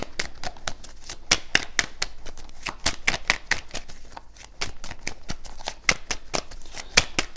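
Tarot cards are shuffled and laid down, a close, crisp run of rapid riffling flicks and snapping taps in uneven bursts, with a short pause midway, and no voices.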